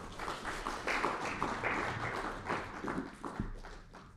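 An audience at an anti-corruption agencies' regional conference claps for the Malawian chair: dense, steady applause of many hands that holds for about four seconds, with a few louder individual claps standing out.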